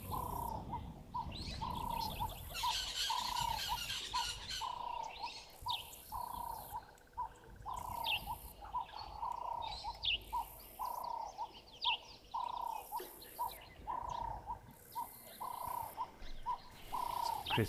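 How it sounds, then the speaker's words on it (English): A crested barbet calls far off in a grassy, thickly vegetated wild setting, its repeated notes coming at a regular rhythm amid other bird chirps, faint and without talking. "Crested barbet as well, that's also calling rather far away."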